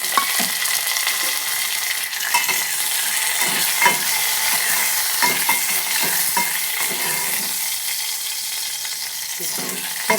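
Garlic, curry leaves and coriander crackle and sizzle in hot oil for a South Indian tomato rasam tempering, a continuous bright frying hiss close up with scattered pops and light stirring ticks throughout.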